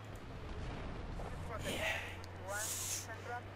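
Booming explosions in GTA Vice City, while driving a tank, burst out with broad rushing noise, two big blasts in quick succession over a steady low hum, with a voice talking throughout.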